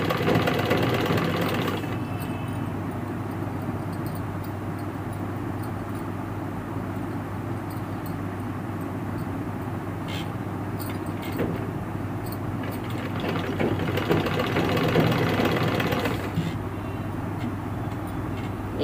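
Sewing machine stitching pant fabric during a tailoring class, running as a steady mechanical hum for most of the stretch, with brief pauses and a slight surge near the end, no voice over it.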